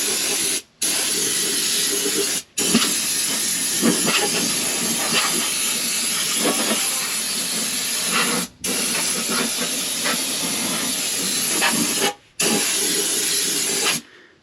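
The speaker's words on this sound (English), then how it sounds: "I got the spray gun hooked up with a nozzle, and got it set to 80 psi" Loud continuous hiss of a pressurized spray gun set to 80 psi applying lanolin rust-prevention undercoating, broken by four brief pauses where the trigger is released before spraying resumes.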